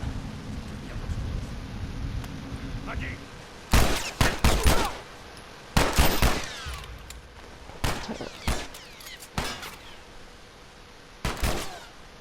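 Gunfire in The Last of Us, several loud sharp bursts of shots in separate clusters spread across the clip, with a quieter rumbling stretch before the first volley and no talking.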